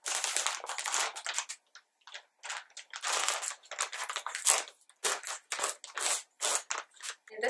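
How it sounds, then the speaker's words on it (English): A plastic bag holding a red synthetic-fiber wig is torn and opened, giving a run of close, loud crinkling and rustling bursts with short pauses between them, and no voice. "So, I have to get into this bag."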